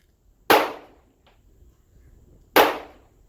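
Two sharp, loud pistol shots from an IWI Jericho 941 fired with cheap ammunition, spaced about two seconds apart, each a hard crack with a short decaying tail and a faint click between them.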